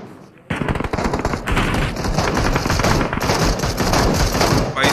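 MK guns firing in a battle royale video game fight, dense rapid automatic bursts loud and close, nearly continuous after a brief quiet start, with an excited voice talking over the gunfire.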